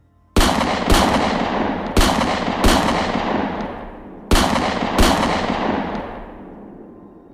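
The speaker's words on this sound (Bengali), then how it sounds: "ঝোপের ভিতরে আন্দাজে আন্দাজেই আমি 8 ডজন গুলি বৃষ্টি করলুম।" Gunfire sound effect in a Bengali hunting story: six sharp, loud shots fired in quick uneven succession, each followed by a long ringing decay, with no voices.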